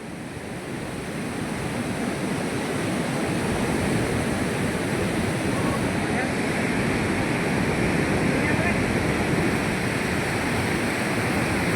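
Dasan river in Chhatarpur flowing steadily, a dense, continuous wash of rushing water heard close and loud with no pauses, like surf, throughout.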